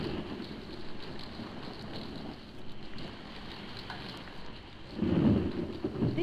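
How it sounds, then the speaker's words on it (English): An electrical storm over an island, heard from a yacht moored at a pier, gives steady rain hiss and a low rumble throughout, swelling into a louder roll of thunder near the end, with no voices. "A sudden electrical storm sweeps over the weird island"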